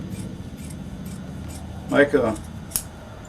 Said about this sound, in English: take scissors and trim it off